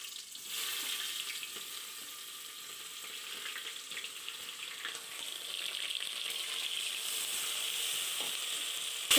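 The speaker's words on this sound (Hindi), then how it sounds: "अभी उसी तेल में हमें प्याज लाल करना है" Onions frying in oil in a pan, a quiet, continuous hiss of sizzling that swells a little over time, heard alone without talk.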